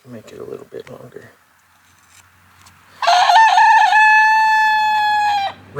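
A rooster crows once, loud and close, a long ringing call that follows a few seconds of muffled background sounds and quiet handling noises.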